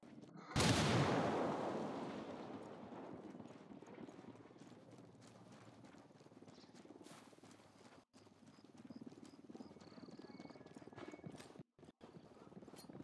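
A grenade blast in the video game Ghost Recon Wildlands, one loud close explosion that decays over a couple of seconds, followed by quieter scattered gunfire and ambient battle noise.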